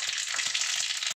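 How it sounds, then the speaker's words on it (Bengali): Mustard and fenugreek seeds hitting hot oil in a pan, a steady loud hissing sizzle that runs for about a second and then stops abruptly. "এবার আমি সর্ষে আর মেথি ফোড়ন দিয়ে দিলাম"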